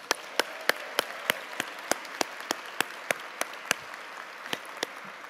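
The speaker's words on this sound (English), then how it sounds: "let's give them all a round of applause first." Sparse, evenly spaced claps ring out one after another at a university commencement ceremony, a small scattered round of applause with no voices over it.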